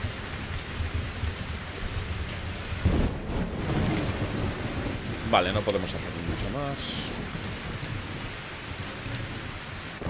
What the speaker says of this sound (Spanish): Madre mía, qué tormentón.